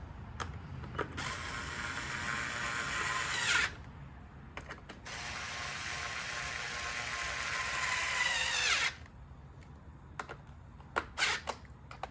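A hand ratchet tightens fasteners while an impeller is being replaced on a Husqvarna 125B leaf blower. It gives two long, close, steady runs of rapid clicking separated by a short pause, with a few isolated clicks at the end.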